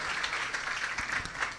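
An audience at a Bhagwat katha claps together in a steady, dense burst of applause, moderately loud and without pause.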